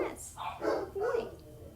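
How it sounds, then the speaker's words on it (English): Dogs barking indoors from a bedroom at the neighbors next door, a few short barks mixed with a person's voice talking over them at moderate distance. "the dogs are in the bedroom barking at the neighbors"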